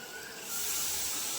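A steady broadband hiss rises sharply and holds as water hits hot oil in a pan, close and fairly loud with no talking.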